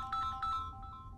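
A mobile phone ringtone plays a short, faint melodic phrase of repeating tones, heard alone in a quiet setting during a horror game session.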